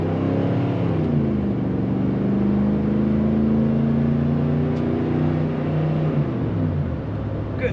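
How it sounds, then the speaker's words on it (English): The exhaust of a 1995 Chevrolet Silverado K1500 4x4 pickup drones steadily, its engine tone rising and falling smoothly in one drawn-out rev before settling back to idle, close and continuous. "Good sounding exhaust in this truck."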